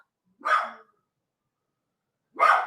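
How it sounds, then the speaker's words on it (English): A dog gives two loud, separate barks about two seconds apart, with silence between them. "Dog!"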